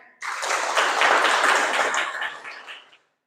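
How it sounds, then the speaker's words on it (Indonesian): Applause from an audience at a teacher's classroom performance session, a dense burst of many hands clapping that starts abruptly, holds steady for nearly three seconds and then fades out. "tepuk tangan untuk kita semuanya"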